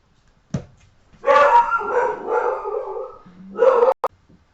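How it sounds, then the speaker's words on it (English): Several dogs bark and yip nearby indoors, a short yelp, then a sustained run of overlapping barking and whining that swells again before cutting off sharply. "Sorry about the dogs."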